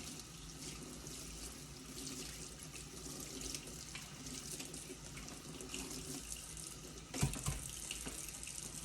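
Tap water runs steadily into a sink while a paint brush is rinsed under it, a continuous close splashing hiss with a brief louder splash near the end.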